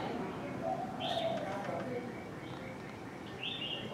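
A wild-caught dove coos softly outdoors in rural Phu Yen, a few faint, low calls over a steady background hiss with scattered chirps from other birds.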